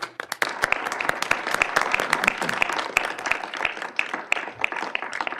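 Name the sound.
applause at county commissioners meeting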